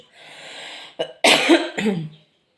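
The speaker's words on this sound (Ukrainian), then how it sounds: "Ви бачите, кашлі" A person coughs a few times, harsh and close, following a brief raspy breath, then falls silent.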